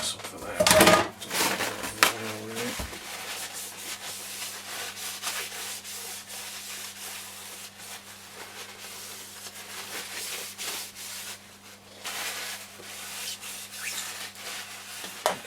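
Cloth rubbed against a part of a Roberts R701 transistor radio to wipe off excess, a soft continuous scrubbing close by with a brief clatter near the start and a faint steady hum behind.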